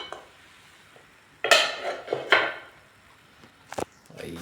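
A metal pot lid is lifted off a pot of mackerel soup with vegetables, a few clanking metallic knocks and scrapes against quiet kitchen background, followed by softer clinks.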